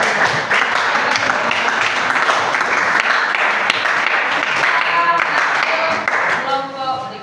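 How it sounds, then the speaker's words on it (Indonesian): A class applauds a student group, dense, loud, sustained clapping filling the room, fading near the end as voices rise. "beri tepuk tangan untuk kelompok 1"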